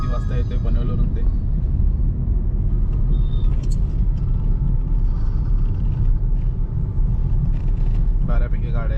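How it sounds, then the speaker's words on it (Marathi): Busy road traffic with many vehicles heard from inside a moving car, a loud continuous low rumble of engines and tyres, with speech faintly present. "बऱ्यापैकी गाड्या आहेत आज."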